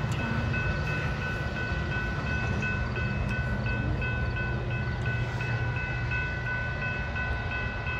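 A train rumbles past steadily and close, a continuous low roar with rail noise and faint high tones, no voices.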